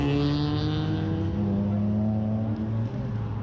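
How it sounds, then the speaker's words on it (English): A pearlescent white Ferrari California T with yellow calipers drives past at a drive-by supercar show in Alderley Edge, its engine droning loud and close with a steady harmonic hum and slight pitch shifts. "Ferrari California T in a lovely white colour, almost like a pearlescent with the yellow calipers."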